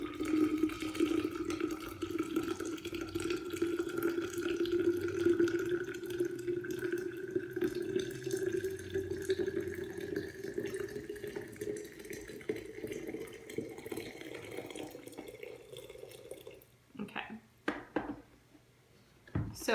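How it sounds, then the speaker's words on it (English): Hot water pours steadily into a jar of herbs for an herbal infusion, a continuous filling stream whose pitch rises as the jar fills, ending with a few clinks near the end. "I'm just going to pour hot water over it"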